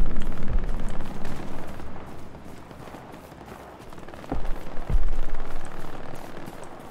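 Gunshots in the WWII game Hell Let Loose on Omaha Beach, heard as several sharp reports, a single one early and a close pair near the end, over steady background noise.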